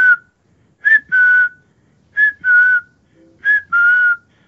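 A person whistles an imitation of a phone message alert tone, three repeated two-note chirps, a short rising note then a longer held tone, close and loud with gaps between.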